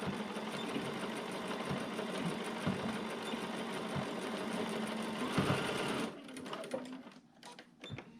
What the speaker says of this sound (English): I'm just going to stitch straight across that